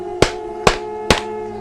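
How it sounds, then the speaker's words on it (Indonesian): Three evenly spaced, sharp footsteps on a tiled floor land about half a second apart. Each hard, close knock decays quickly over a faint steady background hum. "Terkaanku itu adalah suara pijakan kaki menyentuh ubin lantai,"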